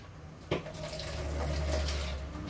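Water runs steadily from a tap into a pot of ginataang hipon with vegetables, a continuous rushing pour after a brief clunk, close by and fairly loud.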